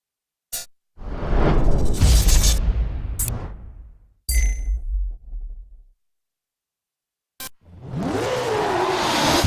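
Scion tC drift car with a NASCAR V8 engine, driven by Tanner Faust in Formula Drift in DiRT 3, roars loudly in revving bursts with brief gaps and a rising engine whine at the end.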